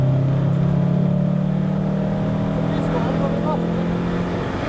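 A 2.1 litre car engine holding steady revs on the track at Snetterton, a loud continuous droning hum heard from inside the car without a break.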